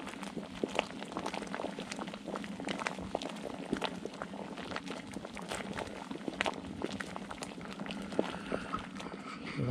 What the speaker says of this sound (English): this is when the boil goes frantic